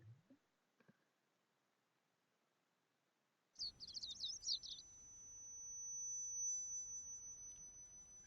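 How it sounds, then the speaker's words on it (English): Birdsong in a forest from the video game Code: Realize, heard as a short burst of bright chirps followed by a thin, sustained high tone, faint and isolated against near silence. "I hear the sound of treetops rustling in the wind, the sound of birds chirping."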